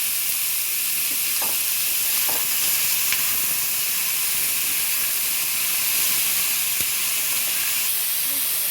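Potatoes and chopped ginger fry in a hot pan with a steady, close sizzle and hiss, broken by a few soft scrapes and knocks of stirring.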